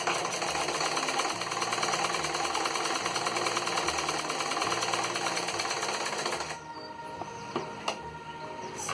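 A sewing machine stitches fabric for a handmade purse, running in a steady, loud mechanical rattle for several seconds before stopping abruptly, followed by a few faint clicks.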